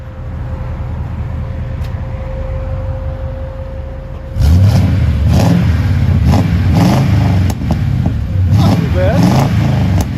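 1997 Chevy 2500HD with a 5.7L V8 and 14-inch Magnaflow exhaust, idling at first and then revving hard and deep in repeated surges, loud and close.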